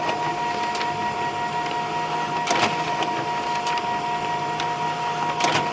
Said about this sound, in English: I just have to hook it up my computer to the printer and then we'll print.